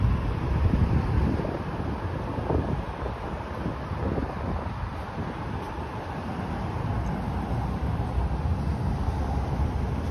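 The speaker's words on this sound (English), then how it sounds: "it's very windy." Outdoor wind buffets the microphone on a street, producing a constant low rumbling roar with gusty swells, close and loud throughout, with no clear voices.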